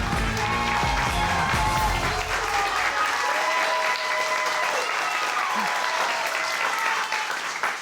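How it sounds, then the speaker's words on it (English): Studio audience applauding at the final of the It's Academic high school quiz show, a steady loud wash of clapping filling the whole stretch with a brief spoken line underneath at the start. "They're applauding because we're about to embark on the Picture Perfect round."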